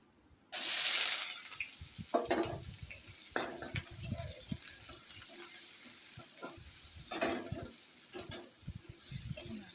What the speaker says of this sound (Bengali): এখন চাউমিন করবো বলে কড়াই বসিয়ে নিয়েছি, পেঁয়াজ ভেজে নিচ্ছি